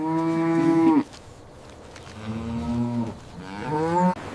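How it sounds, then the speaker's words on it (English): A cow moos three times at close range. Each call is loud and drawn out, with brief pauses between them and no voices. "It's a cow."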